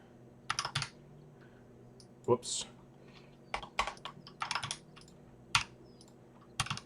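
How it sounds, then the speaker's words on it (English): Quick bursts of keystrokes on a computer keyboard during a typing test, comparing membrane and mechanical boards from Logitech, EVGA and ASUS; irregular clicky clusters separated by short pauses, close and fairly quiet, with a brief spoken exclamation. "I apologize about the clickety noise from recording"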